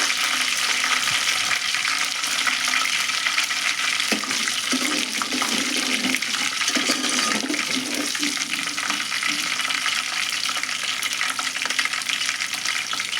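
Raw washed cabbage hitting hot oil seasoned with curry leaves, a loud continuous sizzle and crackle with a few scraping stirs, no talking.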